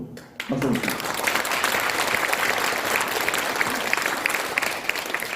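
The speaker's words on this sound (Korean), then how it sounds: "여러분 박수 한번 주세요." An indoor audience at a Korean lawmaker's parliamentary report meeting breaks into loud, sustained applause. Dense clapping fills the room for about five seconds after a brief quiet start.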